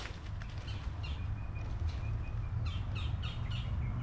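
Faint bird chirps and short calls come and go above a steady low outdoor rumble in Mississippi, a few brief tweets repeating toward the end.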